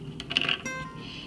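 A pencil rolls across a table with a brief, light rattle and a few tinny clicks near the start, then fades into faint background hum.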